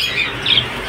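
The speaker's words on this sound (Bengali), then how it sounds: "দেখুন পায়রা কোয়ালিটি কত সুন্দর" Pigeons at a bird market call out in a short, loud squawk against a steady background hiss, with no talk.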